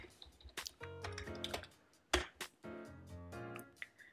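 Keys clatter in quick irregular bursts on a computer keyboard as a command is typed, close and distinct with short pauses and one sharper keystroke.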